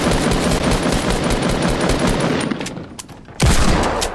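Video game gunfire rattles in dense, continuous bursts, loud and close, thinning briefly before a sharp fresh volley near the end.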